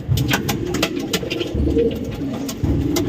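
A competition songbird in the Indonesian bird-contest scene calls in steady repeated low cooing phrases, loud and close, with a few sharper chirps over a busy background.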